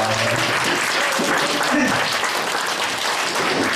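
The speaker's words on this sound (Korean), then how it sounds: "날로 발전되는 우리 찬양팀 주님에게 영광의 박수를 올려드리겠습니다." A church congregation applauds the praise team at a worship service, a dense, steady round of clapping from a nearby crowd that holds for the whole stretch, with speech mixed in.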